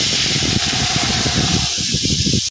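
Spice paste with cumin seeds sizzles loudly and continuously in a pan in a village kitchen, with fish already fried in the same pan. The dense hiss holds steady throughout, then cuts off abruptly at the end.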